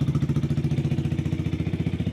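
Yamaha R125 motorcycle idling close by just after its exhaust was refitted, a steady rapid pulsing putter with an even rhythm, no talk over it.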